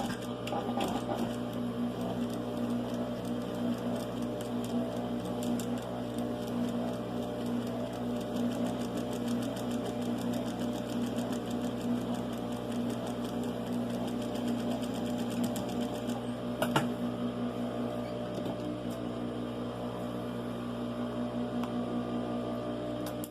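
A sewing machine runs steadily and close, stitching quarter-inch topstitch seams on a side pocket, with a continuous fast mechanical whir that barely changes for the whole stretch.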